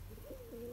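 A brief, soft pigeon coo, a low warbling call heard once against a muffled background.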